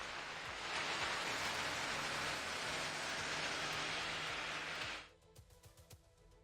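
Heavy monsoon rain pours down in Delhi as a dense, steady hiss for several seconds, then cuts away abruptly, leaving faint dripping and quieter background.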